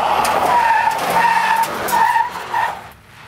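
An Aston Martin drives up with its tires skidding and squealing in repeated sharp bursts over engine noise, loud and close, fading toward the end.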